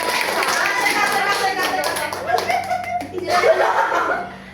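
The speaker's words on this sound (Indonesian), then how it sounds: "Tepuk tangan buat kawan-kawan" Classmates in a grade 9 class clapping for a group after their presentation, a steady burst of applause under voices and light laughter, tapering off at the end.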